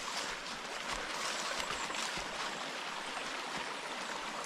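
A mountain stream rushes beside a hiking trail, a steady, close wash of flowing water with no pauses and no voices.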